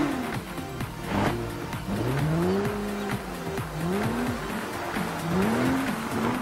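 Car free-driving in Need for Speed Rivals on PlayStation 3: a steady engine drone rising and falling in pitch through gear changes, with tires squealing through corners, continuous and close, no voices.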